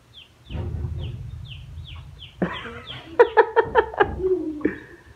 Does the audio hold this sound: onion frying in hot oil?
no